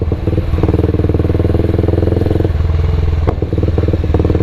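Kawasaki Ninja 250 single-cylinder motorcycle engine running loud and close, a steady rapid thumping idle with a rough pulsing beat and no talk over it.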